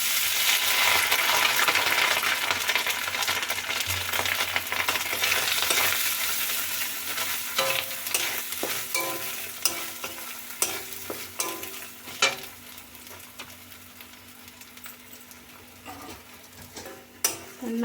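Grated coconut fries in a pan of hot oil with panch phoron, dried red chilli and bay leaf, a loud steady sizzle that gradually softens while a spoon scrapes and clicks against the pan in irregular strokes.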